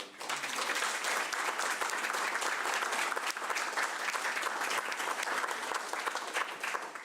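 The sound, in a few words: audience applauding the staff at a council meeting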